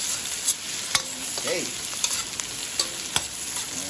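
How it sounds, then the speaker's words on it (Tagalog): Aromatics sauté together in a pan for a skipjack tuna dish, giving a loud, continuous sizzle close by with scattered spatula clicks and scrapes. A voice speaks a single brief word. "Sabay-sabay na po natin gisa yan."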